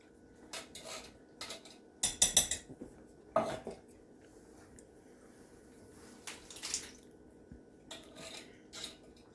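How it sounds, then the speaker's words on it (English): Two cans of chili-ready tomatoes are dumped into a crockpot: scattered clinks and clatters of cans and metal against the pot, with a few sharper knocks and a soft wet plop, fairly quiet in a kitchen. "you're going to add 2 cans of chili ready tomatoes. Dump them right in."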